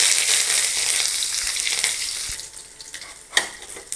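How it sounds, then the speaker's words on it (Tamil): Mustard seeds, urad dal, cumin, fenugreek and crushed garlic temper in hot oil for a tamarind kuzhambu, giving a bright continuous sizzle close up that slowly settles, with a few stirring clinks near the end. "நான் கடுகு, உளுத்தம்பருப்பு, சீரகம், வெந்தயம், வெள்ளைப்பூண்டு சும்மா ஒரு 2 தட்டி போட்டிருக்கேன் வாசனைக்கு."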